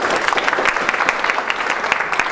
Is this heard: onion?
no